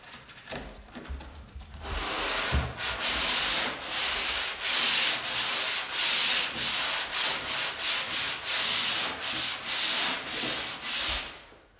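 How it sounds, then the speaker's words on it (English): Hand sanding on the flat wood surfaces of a built-in closet makes steady, rhythmic rasping strokes that repeat for several seconds. The sanding is loud and close, with no talking. "So I'm going to start with sanding on the flats."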